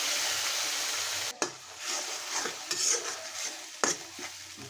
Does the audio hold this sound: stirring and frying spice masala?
yes